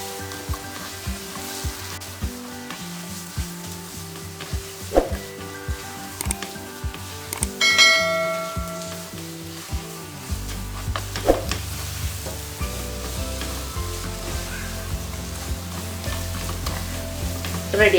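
Mango coconut ladoo mixture being heated and stirred in a pan, with a sustained sizzle and repeated rhythmic scraping strokes of a spoon, close and steady, with no talk.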